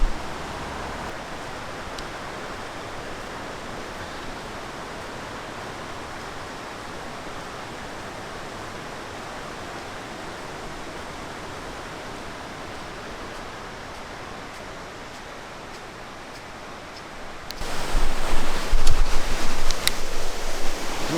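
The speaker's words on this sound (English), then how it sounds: "a nice waterfall just opposite" A waterfall near Aurland roars as a steady broadband rush, moderately loud and unbroken, swelling louder and closer toward the end, with no voices.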